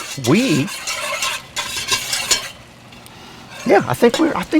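Onion and celery are stirred in a pan for a roux, with a gentle sizzle and repeated scraping spoon strokes while someone talks at the start and again near the end.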